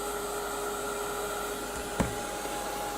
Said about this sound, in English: I'm going to heat it with my, dry it hopefully with my heat gun.